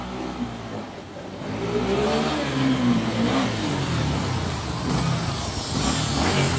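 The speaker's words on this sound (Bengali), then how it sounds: "আপনাদের এখন গাড়ির র সাউন্ডটা শোনাচ্ছি আমি।" A 250 cc motorcycle out on a ride, its engine revving and accelerating in a rising, sustained roar with pitch sweeps as it gains speed, loud and close with no talk over it.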